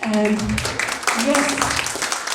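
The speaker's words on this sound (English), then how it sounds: "Another round of applause for Stanton." Holiday concert audience in a music center hall clapping, a brief ragged burst of applause mixed with a speaking voice over it.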